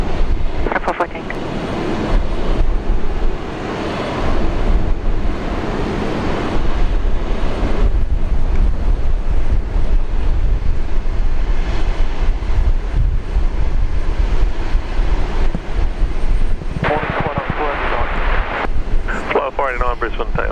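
A passenger jet takes off at Brisbane International Airport, a loud, sustained engine roar with heavy wind buffeting on the microphone, while people talk over it.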